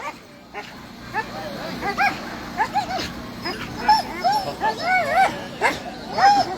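Sled dogs at the Bear Grease race start yip, whine and bark in an excited, overlapping chorus near and far, with a voice talking over them.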